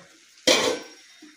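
A metal lid lifted off a pot of simmering bottle gourd greens, a sudden close clatter and scrape of metal that fades into a soft hiss of cooking.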